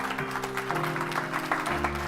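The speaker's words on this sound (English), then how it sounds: "We can give him a round of applause" An audience applauds a volunteer at a magician's talk, soft diffuse clapping under a steady backdrop of sustained music tones.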